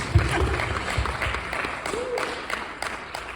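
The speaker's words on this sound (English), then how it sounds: "And let's give you all a round of applause." Scattered applause from a theater audience on a film premiere night, fairly light and uneven, with individual claps standing out and some voices or murmurs mixed in.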